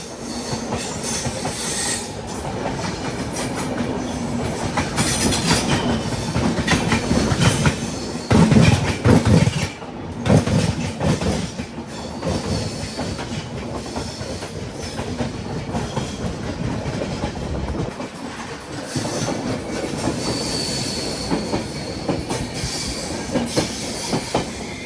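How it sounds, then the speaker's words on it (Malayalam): The Andhra Pradesh Sampark Kranti Express, running Tirupati to Hazrat Nizamuddin, rumbles past close by with a steady clatter of wheels over rail joints and sharp metallic squeals rising midway, no voices present. "ഒരു ട്രെയിൻ വരുന്നുണ്ട്, തിരുപ്പതി ഹസ്രത്ത് നിസാമുദ്ദീൻ."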